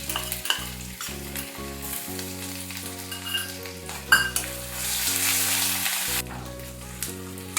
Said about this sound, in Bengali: আদা বাটাটা নাড়তে নাড়তে দিয়ে দিচ্ছি